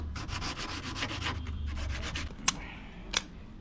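A motorcycle tail tidy part for a KTM Duke is hand-sanded in steady back-and-forth strokes, a close rasping scrub, with two sharp taps near the end.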